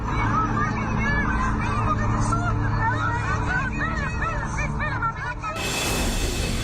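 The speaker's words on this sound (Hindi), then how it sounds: "वीडियो सऊदी अरब के एक मॉल के बाहर का बताया गया है, जहां पर कौओं की फौज जमावड़ा लगाकर बैठी है।" A large flock of crows gathered outside a mall in Saudi Arabia makes a dense, continuous chorus of overlapping caws and squawks, with a wash of broadband noise near the end.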